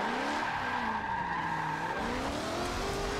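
A Jaguar F-Type drifting in Forza 7 lets out a sustained tire squeal over a revving engine that wavers in pitch as the car slides, loud and continuous with no talk.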